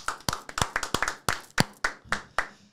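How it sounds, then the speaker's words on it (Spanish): A small group claps in uneven bursts, about a dozen sharp hand claps that thin out and fade toward the end, with no voices. "Otro aplauso, otro aplauso"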